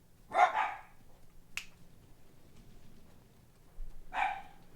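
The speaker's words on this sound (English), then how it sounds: "Dogs are crazy." Two short bursts of dog barking ring out at the start and near the end, fairly close and loud, with a sharp snap-like click between them over a low background hum.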